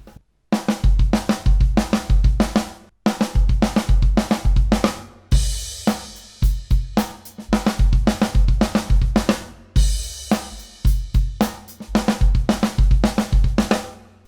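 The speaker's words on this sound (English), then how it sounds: "So if you were just to do it at 16th notes, we could do 2 hands and 2 bass drums" Drum kit playing a fill in steady 16th notes split between two hands and double bass drums, repeated bursts of tight kick and tom hits with crashing cymbals, loud and close with no talking.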